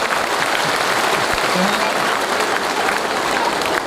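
Audience applause for the chief guest at a Forever Living business testimony event, steady dense clapping filling the whole stretch at an even, loud level.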